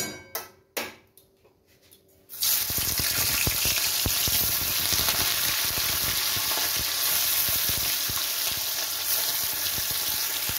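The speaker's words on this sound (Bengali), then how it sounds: "তেলটা যথেষ্ট গরম হয়ে গেছে, আমি এর মধ্যে মাছগুলো দিয়ে দিচ্ছি।" Parshe fish frying in hot oil in a wok: after a few brief knocks, a loud, steady sizzle and crackle begins and fills the rest of the clip.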